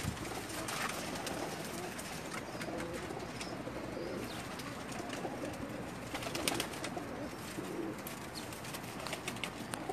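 Pigeons coo softly and repeatedly, several birds close by, with a rustling, fluttering background.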